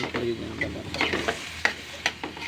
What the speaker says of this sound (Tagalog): Halu-haluin lang yung pusit na yan.